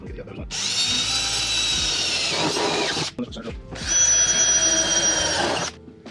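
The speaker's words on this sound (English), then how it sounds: "So that's the center drill that we're using." A power drill spinning a center drill whines loudly at high speed in two long bursts separated by a brief pause, with faint voices in the background.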